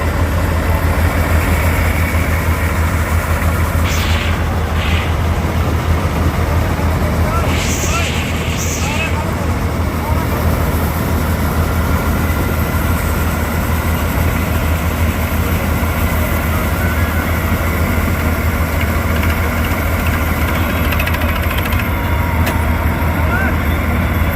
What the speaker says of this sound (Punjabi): ਆਪਣੇ ਵੀਰ ਬਹਿ ਗਏ ਨੇ ਟਰੈਕਟਰ ਤੇ ਸਵਰਾਜ 855 ਮਾਡਲ ਟਰੈਕਟਰ